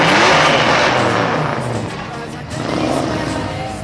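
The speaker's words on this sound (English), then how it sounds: "Dan Lambrecht out of New Prague, Minnesota, a 1966 Ford." A 1966 Ford rolls past at a small-town car cruise in Minnesota, a loud engine roar that swells and fades over a few seconds, close by.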